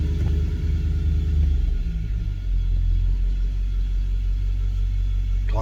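A Nissan Y62 Patrol being test-driven for a drivetrain wheel rattle, with a loud, steady low engine and road rumble from inside the cabin that shifts slightly in pitch partway through.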